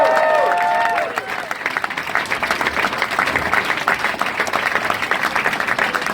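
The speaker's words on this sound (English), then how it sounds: "Another round of applause for the end." Audience applause and cheering at a storytelling night at Mezrab, opening with voices whooping over the crowd, then a steady, dense wash of clapping from the room that holds at an even level.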